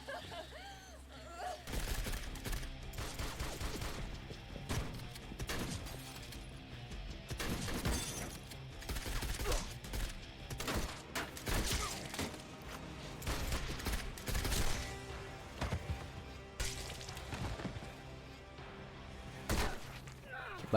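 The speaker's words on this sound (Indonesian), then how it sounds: "Rourke muncul dan menembak mereka satu persatu dengan sangat cepat" In a film shootout, a man guns down robbers one by one, with rapid sharp gunshots and shattering bursts scattered through a busy, fairly quiet soundtrack.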